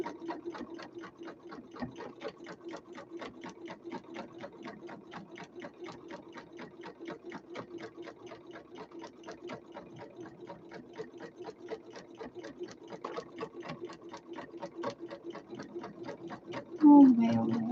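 A sewing machine runs a straight stitch on a handbag, its rapid, regular needle ticks continuing steadily for a long stretch at moderate closeness, with a brief louder thump at the end.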